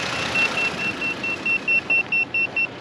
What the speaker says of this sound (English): Hear that alarm? That means it's detecting an electrical field.